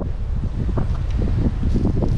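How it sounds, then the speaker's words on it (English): Strong gusty wind blows outdoors at a church memorial garden, roaring steadily against the microphone with rising and falling surges, and no talk is heard. "It's probably hard to hear because the wind is crazy today."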